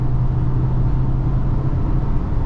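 A SEAT Tarraco 1.5 TSI FR SUV accelerates on the highway toward 140 km/h, with a loud, steady low engine and road hum filling the cabin without pause.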